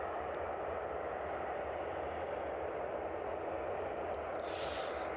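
A cargo aircraft on the ground at East Midlands Airport in the evening gives off a constant broad engine roar and whine, steady and distant-sounding, with a brief brighter rush near the end.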